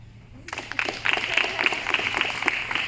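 An audience at a school career day breaks into a dense, steady round of clapping that starts suddenly and carries on to the end, close and moderately loud, with no talking over it.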